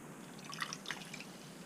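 Water drips from a wet sponge being squeezed out after rinsing, a few faint, soft droplets falling over a quiet background.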